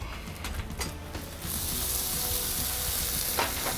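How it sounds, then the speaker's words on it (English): Buttered bread sizzles on a buttered grill press, a steady close frying hiss that swells louder partway through and then holds evenly, with no talking. "get a little butter on the grill. Get a little butter on the bread"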